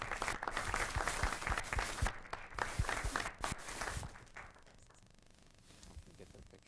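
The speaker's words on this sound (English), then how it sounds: "Let's join in all together with a round of applause." A small group at a school board of education meeting claps for students, loud close sharp claps that thin out and fade after a few seconds into quiet room noise.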